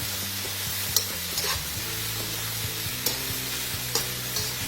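Crab simmering in a pan as a spoon stirs in a seasoning, a steady close sizzle broken by a few sharp clinks of the utensil against the pan, with no voices.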